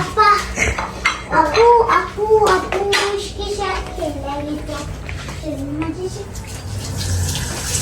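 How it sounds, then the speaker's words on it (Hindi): Dishes being washed in a home kitchen, with clattering plates, utensils and running water under lively overlapping talk, including a voice, at close range. "पापा बर्तन धो रहे"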